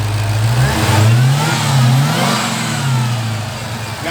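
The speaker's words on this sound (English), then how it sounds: "Can't hear that supercharger. Rev it." A supercharged Dodge Hellcat with a manual transmission revs repeatedly, its pitch rising and falling in surges, loud and close, with a steady supercharger whine underneath.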